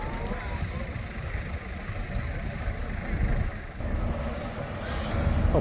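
Vintage bus departing from the Stroud bus rally, a steady low engine rumble with bustle around it, rising slightly toward the end as it pulls away, with faint talk in the background.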